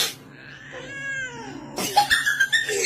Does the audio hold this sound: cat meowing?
yes